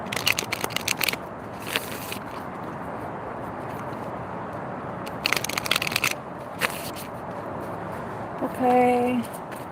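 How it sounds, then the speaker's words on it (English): Cards are shuffled in several rapid, papery riffles separated by pauses, ending with a brief hum. "That was a bad shuffle."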